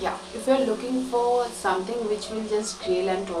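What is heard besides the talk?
None of the usual background noises is heard.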